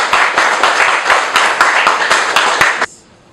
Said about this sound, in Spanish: a darnos un fuerte aplauso